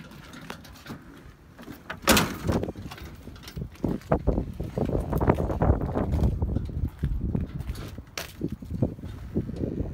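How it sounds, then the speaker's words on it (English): Gusty wind buffets a microphone outdoors at a junkyard among old cars, irregular low rumbling bursts rising and falling, loud and close, with occasional sharp gust peaks. "It's very windy. Hopefully the audio comes out."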